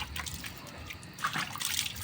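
Water splashes and trickles close by as a baby is bathed, an uneven, moderately quiet patter of pouring and dripping.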